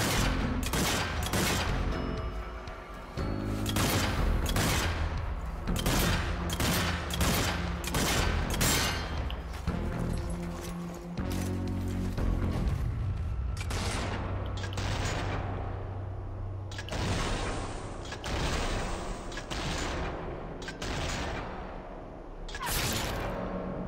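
Gunfire in the video game Zombie Army 4, during the Zombie Zoo chapter, comes as rapid, loud shots packed densely through the first half, then turns into sparser, spaced blasts over a low rumbling backdrop. No one talks.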